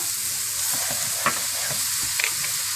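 Chinese rice being stir-fried in a pan, with a steady sizzle under scattered scraping and stirring taps from the utensil, close and fairly loud, no talking.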